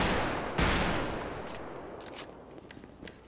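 Gunfire in a Grand Theft Auto roleplay session: one loud, sharp shot near the start, then a decaying echo and scattered fainter pops further off, with no talk over it.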